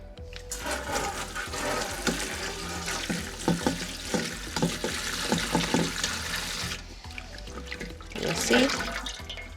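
Water runs steadily from a tap while dried cerasee leaves are swished and rinsed under it, with splashes and clatter near the bottom of a sink.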